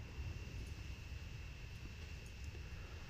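An airplane in the transport simulation game Transport Fever, a faint, steady engine drone with a constant whine above it, continuous and unvaried, with no voices.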